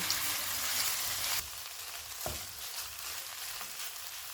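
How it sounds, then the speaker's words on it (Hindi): Chicken mince (300 g) with ginger-garlic paste fries in oil over a medium flame, giving a steady loud sizzle that drops to a softer crackle partway through, with a brief stir or scrape. "300 ग्राम चिकन का कीमा डालेंगे। चूल्हे को मीडियम रखेंगे और इसको 3 से 4 मिनट तक भूनेंगे।"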